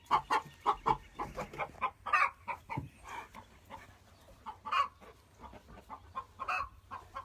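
Several chickens cluck inside a farm chicken coop in a rapid, uneven series of short calls, some louder and closer, with a faint low background hum.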